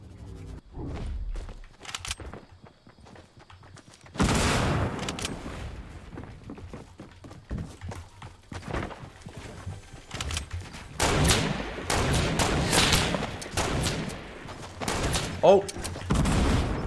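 Sniper and rifle gunfire in a Fortnite sniper shootout match, with sharp cracks and bursts of shots spread through the scene, loudest in clustered volleys toward the end, with a voice talking in between.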